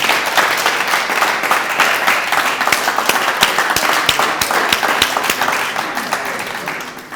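An audience at a café show applauds to welcome a singer onto the stage, loud continuous clapping with a few sharper individual claps throughout, fading slightly at the close.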